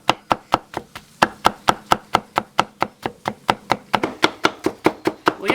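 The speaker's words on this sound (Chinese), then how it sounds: "来切丝" A knife cuts food into thin strips on a board, giving a fast, even run of sharp close taps, about four per second, with no talk.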